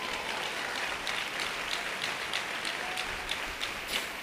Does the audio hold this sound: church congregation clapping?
yes